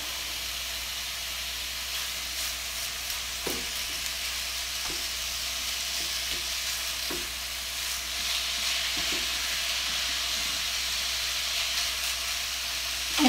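Sausage cooks in a pan with a steady, soft sizzle and hiss, broken by a few faint pops and light clicks, with no voices.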